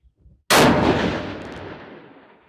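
A single loud, close shot comes from a 7mm PRC rifle built on a Defiance anTi-X long action at an outdoor range. The sharp crack is followed by a long rolling echo that fades over about two seconds.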